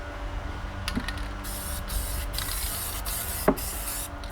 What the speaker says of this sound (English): Now the best way to spray the inside of the bag is to tilt it up.